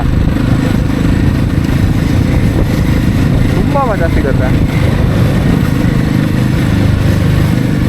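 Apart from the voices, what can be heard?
motorcycle riding on curvy road bends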